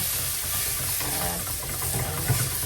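Tomatoes fry in hot oil in a pan for a dried-fish curry, producing a loud, continuous hissing sizzle close by with faint stirring underneath.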